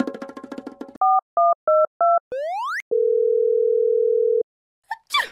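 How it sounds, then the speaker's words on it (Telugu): An unanswered phone rings on, heard as a run of electronic telephone tones: a buzzy chord, four short evenly spaced two-note beeps, a rising sweep, then one long steady tone before a brief noisy burst, loud and close. "మాస్టర్ ఫోన్ ఇంకా రింగ్ అవుతుందంటే ఫోన్ పేలేదన్నమాట"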